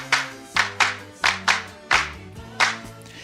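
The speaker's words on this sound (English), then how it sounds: "George added a few more textures, including a harmonium and some hand claps." Hand claps from a recording, about ten crisp claps in an uneven rhythm, loud and close over sustained instruments.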